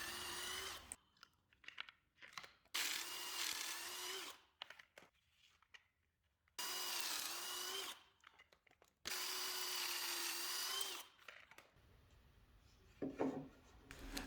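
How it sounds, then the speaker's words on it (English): Power drill pre-drilling and driving screws into a wooden recessed medicine cabinet box, three long loud whirring bursts separated by quiet pauses, with softer handling clatter near the end. "Assembly of the box is nothing fancy, just pre-drilling and screwing."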